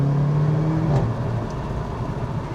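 A Mercedes CLA 45 AMG with its 360-horsepower engine pulls hard with a rising exhaust drone, then shifts up and settles into a steadier, quieter cruise on a Swiss Alpine road.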